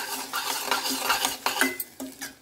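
Boiled broad beans are tipped into curry in a pan, with a spoon stirring and clinking against the metal in several sharp knocks over a light sizzle, close and clear with no talking.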